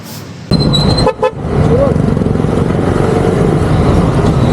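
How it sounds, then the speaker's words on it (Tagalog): A Honda ADV 175 motorcycle horn toots in short beeps close by, heard over a running engine idling steadily in the background. "Ito yung ating horn"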